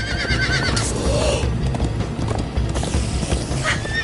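Horses in Minecraft: Story Mode whinny loudly over a dense, steady clatter of galloping hooves and game effects, with neighs repeating across the stretch.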